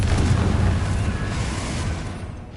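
A Bombarda spell explosion in Hogwarts Legacy: a deep, rumbling boom with a broad roar that slowly fades, loud and close, with no voices.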